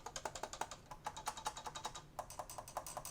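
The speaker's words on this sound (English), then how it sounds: "I tried to listen to clacking of keys" The keys of a Yamaha YAS-32 alto saxophone clack as they are pressed, a rapid, quiet run of crisp clicks and taps in an uneven, steady rhythm, close up, with nobody speaking.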